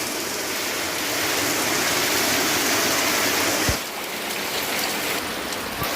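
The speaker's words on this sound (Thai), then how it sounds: "อันนี้ฝนกำลังตกนะครับ" Rain falls steadily on a small breeding pen for balloon frogs, a loud, even wash of hiss and splatter that continues throughout.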